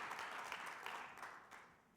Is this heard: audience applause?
yes